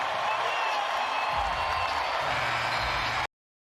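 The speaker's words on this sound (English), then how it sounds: "And listen to the crowd." Basketball arena crowd roars in a steady, loud wash of cheering and applause after a big shot, with low rumbling swells underneath before cutting off abruptly.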